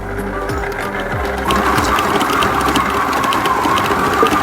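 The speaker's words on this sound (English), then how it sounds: "It is also very handy if you have a mixer. Stir the meat at a very low speed for just 1 minute." An electric mixer running at low speed while shredding cooked meat into floss makes a steady, close mechanical whir and hum that grows slightly louder partway through and carries a faint rhythmic clatter.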